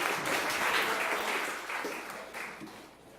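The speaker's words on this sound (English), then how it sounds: "And a big round of applause to the University of the West Indies," Audience applause at an international law moot competition awards ceremony, a warm burst of clapping that swells early and gradually tapers off over a few seconds.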